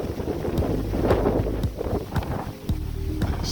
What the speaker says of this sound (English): the wind really got so loud you couldn't hear what I was saying in the microphone